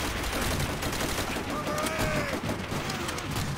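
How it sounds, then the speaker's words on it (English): A Thompson submachine gun firing .45 ACP in Call of Duty: World at War, a quick crackle of automatic shots set against a busy battle bed, fairly faint and muffled. "Tommy gun."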